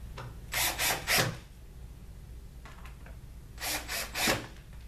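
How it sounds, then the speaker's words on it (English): Screws driven into the wood of a base cabinet, with three quick whirring bursts from the driver near the start, a fainter one midway and three more near the end, close and alone over a quiet room. "Grab your screws. Pop them right in there."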